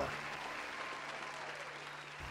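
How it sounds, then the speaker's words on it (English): A crowd applauds the Emory University School of Medicine class of 2024 at a white coat ceremony, with steady, dense clapping throughout and no voices. "please give a round of applause wherever you are to the class of 2024"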